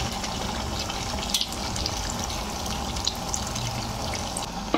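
Hot water pours steadily into a duck meat curry cooking on a low gas flame, a continuous watery rush with a few small splashes and no talking.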